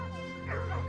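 Royal hunting dogs chasing a hare give a single short, mid-distance bark-yip over a steady low hum, lasting under a second.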